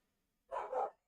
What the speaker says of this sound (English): Sorry about the dogs as well,